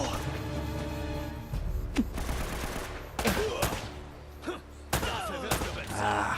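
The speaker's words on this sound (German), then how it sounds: "Und dich kriege ich dann mit der Pistole." Sharp pistol shots crack out one at a time amid a firefight in the video game Uncharted, several separate loud reports spaced a second or so apart over a steady background of game noise.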